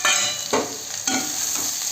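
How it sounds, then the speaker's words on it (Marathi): Ridge gourd sizzles with garlic in a pan, stirred in about four distinct strokes over a constant loud frying hiss, close up and with no speech. "आता मम्मी गिलके हलवते."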